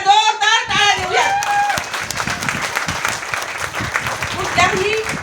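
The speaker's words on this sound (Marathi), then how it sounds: "आपण सर्वजण त्यांच्यासाठी एकदा जोरदार टाळ्या देऊया." A crowd at a speech event breaks into sustained, fairly loud applause, dense clapping running throughout, with a voice speaking over the start.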